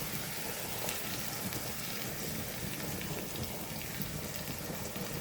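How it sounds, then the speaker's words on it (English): Eggs sizzling as they go into hot Ghanaian egg sauce in a pan, a steady, crackling fry hiss that stays even and fairly close throughout, with no talking. "now I'm going to add my eggs"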